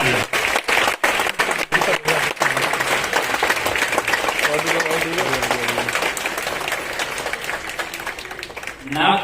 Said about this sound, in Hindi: एक बार जोरदार तालियां आप सभी के लिए जो यहाँ इस सदन में विराजमान है